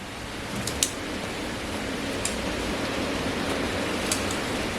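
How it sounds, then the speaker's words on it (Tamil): Heavy wind and rain roar as a steady, dense broadband wash outdoors near a home kitchen, with a few faint brief clicks on top and no talk. "காற்று மழையும் பயங்கரமாக நிற்கிதுடா"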